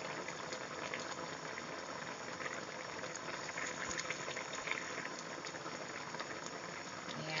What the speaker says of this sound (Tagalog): Ayan, ayan natin na kumulo ng kumulo.